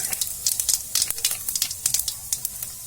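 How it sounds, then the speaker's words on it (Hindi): Cumin seeds and dried red chillies sizzle in hot oil, a close, loud and steady crackling with rapid pops all through and no talk. "तेल भी गर्म हो चुकी है। अब इसमें मैं जीरा डालूंगी, सूखी लाल मिर्च डालूंगी"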